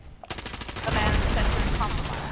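Gunfire in the Fallout 76 video game, a sudden burst of rapid automatic shots that continues steadily for about two seconds, loud and close, with a player's voice briefly mixed in.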